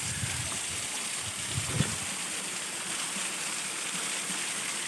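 Water rushes steadily down the stream at Areekkal waterfall in Ernakulam, a close, unbroken broadband roar with a few soft splashes near the start.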